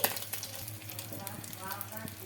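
Beaten egg mixture poured into a hot pan sizzles close and crackly, with scraping stirs and a voice talking over the sound.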